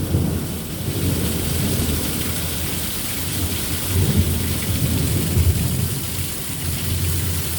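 Heavy rain pours steadily during a severe thunderstorm in Merritt Island, Florida, with deep rolling thunder swelling beneath the downpour, loud and close.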